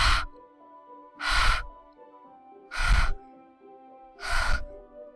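Sharp breaths drawn through clenched teeth in Doki Doki Literature Club, four distinct hissing inhales spaced evenly over a quiet, low background hum.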